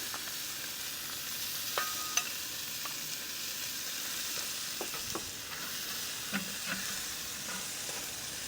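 Burgers searing in butter in a skillet on a Big Green Egg grill, a soft steady sizzle with scattered spatula clicks and scrapes, close by and fairly quiet, no talk.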